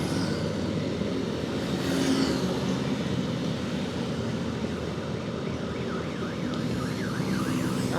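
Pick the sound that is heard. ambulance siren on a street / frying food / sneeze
ambulance siren on a street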